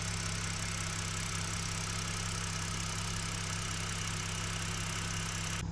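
A warmed-up 2006 BMW N52 inline-six idling quietly, a smooth, steady low hum with soft hiss and no revving, heard alone and unchanged throughout.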